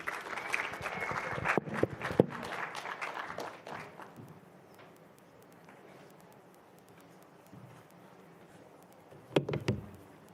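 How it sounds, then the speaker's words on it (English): Audience applause at a content creators' TikTok workshop as a woman comes on stage: dense, loud clapping for about four seconds that thins and fades into quiet room noise, then a brief renewed burst of claps near the end. "Please can we give her a huge round of applause as she comes on stage."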